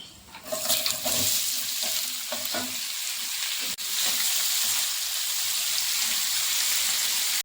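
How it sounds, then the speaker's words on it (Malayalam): Whole spices such as cinnamon and star anise sizzle and crackle in hot oil in a pan for a chicken stew, a steady close frying hiss with a few stirring clatters early on. "ഒരു 3-4 തക്കോലം, ഇതെല്ലാം കൂടി ഇട്ടൊന്ന് ഫ്രൈ ചെയ്തെടുക്കാം"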